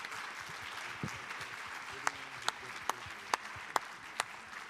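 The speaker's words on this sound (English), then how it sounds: "Please give our panel a big round of applause" A few sparse, sharp claps ring out over a low background hum at a UN high-level meeting session, scattered and irregular rather than a full burst of applause for a panel.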